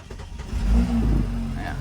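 A 2013 car with 38,000 miles cranks and fires up quickly, a close, loud engine catching and settling into a steady idle.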